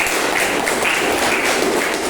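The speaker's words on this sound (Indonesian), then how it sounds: "beri tepuk tangan untuk kelompok satu" A classroom group applauds a student group's presentation steadily, a dense wash of clapping that holds at an even level for the whole moment.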